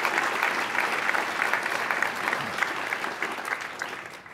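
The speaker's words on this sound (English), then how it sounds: "Tom, I'd like to just have a round of applause for you and your contribution." Sustained audience applause at an awards dinner, a dense patter of many hands clapping at moderate level throughout with no break.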